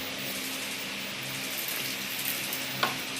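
Instant mango pickle mixture sizzling in a hot pan, a steady even frying hiss with a small sharp clatter near the end.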